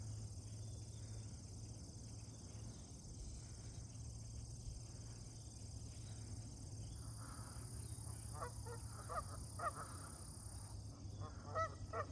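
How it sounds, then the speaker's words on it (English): Geese honk by a lake, a scatter of faint, distant honks late on over steady outdoor hum and noise. "Look at the geese out here."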